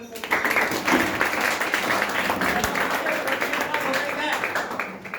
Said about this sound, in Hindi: उस दिन के लिए जोरदार ताली मुझे तरफ